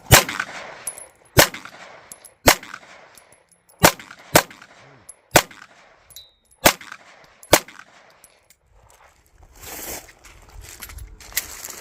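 Canik Rival S and TTI pistols fired at a steel target frame outdoors: a sharp string of loud, evenly spaced shots, each with a ringing metallic clang, then a rustle of handling noise.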